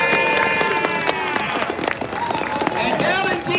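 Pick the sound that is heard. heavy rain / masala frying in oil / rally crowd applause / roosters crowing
rally crowd applause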